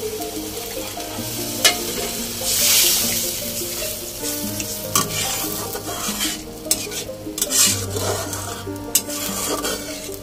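Water splashes into a hot pan of tomato and spice paste, with loud bubbling sizzle, scraping and stirring, and bursts of steam hiss through the middle and again near the end.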